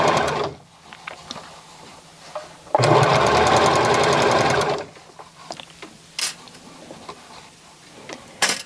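Sewing machine stitching a child's dress made from a tee shirt, a loud burst of rapid stitching in the middle with a few short, sharp bursts and clicks before and after over quiet handling noise.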